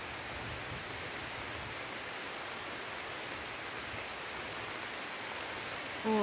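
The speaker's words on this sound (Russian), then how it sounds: "Слышно дождь?" Steady rain hisses evenly throughout, a dense wash of drops falling without pause, fairly soft and constant.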